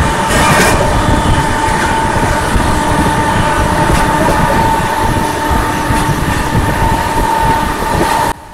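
Saraighat Express, Guwahati to Howrah, heard from inside an AC First Class cabin: a loud, steady rumble of the moving train with rhythmic wheel clatter and faint squeals, no voices.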